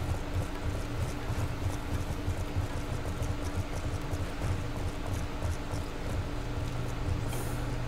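Rhythmic hoofbeats of a galloping horse in the video game Call of Duty: Black Ops 2 pound steadily over a constant rumbling background, unbroken and fairly close.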